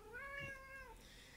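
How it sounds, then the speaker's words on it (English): A cat gives a single clear, drawn-out meow close by, rising then falling over about a second, in a quiet indoor room. "The kitty is here."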